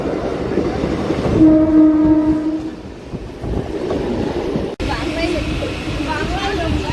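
A train rumbles loudly into Gopalnagar station and sounds a long horn blast, with clattering wheels and voices around it as it arrives.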